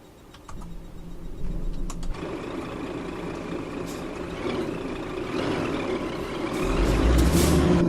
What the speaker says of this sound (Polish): Może odgłosy tej ciężarówki też nie zaściszymy?